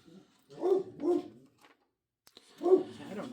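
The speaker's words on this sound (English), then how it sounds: "Sorry about the dog barking in the background." A dog barks in the background during a baseball card box opening, giving two quick barks close together, a pause, then another bark, all at moderate volume.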